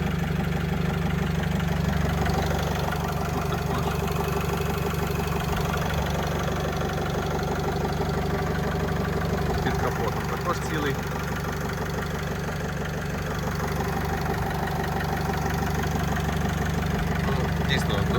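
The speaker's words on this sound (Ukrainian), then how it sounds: "Так працює моторчик." A 2011 Opel Vivaro van's 2.0-litre 115 hp diesel engine idles steadily at close range, a constant low rumble with faint knocking that holds unchanged throughout.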